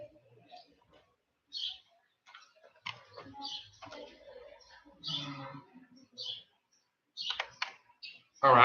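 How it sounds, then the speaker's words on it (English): Typing on a computer keyboard gives a run of irregular, close clicks and taps, with a voice talking among the keystrokes. "I hate when I be typing, man, and I don't even be in the typing box"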